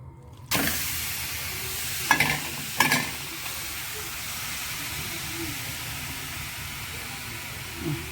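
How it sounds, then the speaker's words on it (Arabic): Meat hits a hot pan with a sudden loud sizzle, then fries on steadily with spices and onion, two sharp bursts of spatula scraping breaking the hiss partway through. "وهنشوحها شوية كده بالتوابل، وبعدين نرمي عليها البصلاية"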